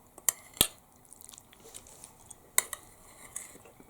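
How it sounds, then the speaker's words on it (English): A spoon scrapes and clinks against a dish while Tesco lamb rogan josh is stirred into pilau rice, a few sharp metallic taps over soft squishy mixing, close and quiet with no talking. "Let's give it a good mix up."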